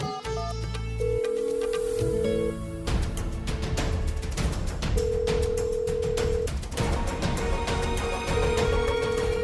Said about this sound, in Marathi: फोन का उचलत नाही हे?